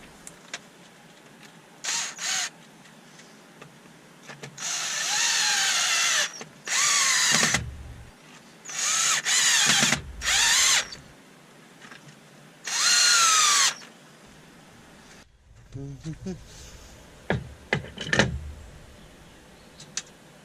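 A power drill whirs in repeated short bursts of a few seconds each while working on a wooden bowl, separated by quieter pauses with light handling noises.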